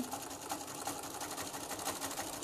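A sewing machine runs steadily and close by, stitching a seam on a pieced quilt, a fast even whir of the needle with no pause.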